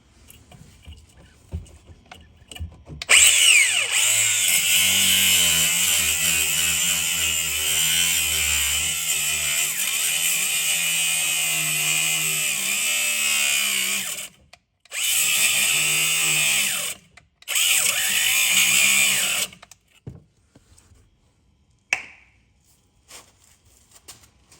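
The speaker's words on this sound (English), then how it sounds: "Now you're gonna take a grinder here, cut this off." An angle grinder cuts off a sway bar link on a 2015 Chevrolet Silverado: a loud, close, screaming whine for about eleven seconds, then two shorter bursts after brief pauses, with the pitch wavering as the disc bites.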